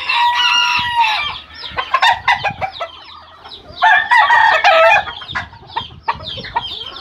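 A rooster crows and clucks nearby in repeated bursts, loud and close, with a few shorter calls breaking up the sequence and no talking.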